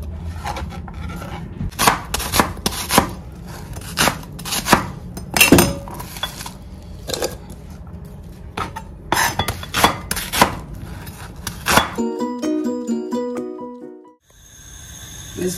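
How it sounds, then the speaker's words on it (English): Knife blade strikes a cutting board in irregular bursts of sharp chops while vegetables are cut for a red bell pepper sauce, followed by a short stretch of clinking kitchen sounds. "I'm going to chop all the ingredients."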